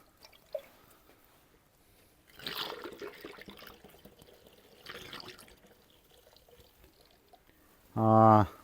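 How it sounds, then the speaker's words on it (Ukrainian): Water sloshes in a jar being rinsed for a plant-protection sprayer tank mix, in two separate bursts of pouring and swirling, followed by a brief voiced sound at the very end. "Промию нашу банку третій раз."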